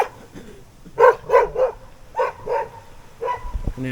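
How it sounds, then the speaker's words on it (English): Dogs in a Czech village bark in short bursts, two quick clusters of three and two barks followed by a single one, at moderate distance over a quiet background. "there's dogs everywhere, barking like crazy"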